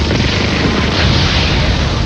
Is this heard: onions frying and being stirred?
no